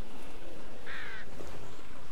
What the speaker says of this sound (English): Just those fucking crows.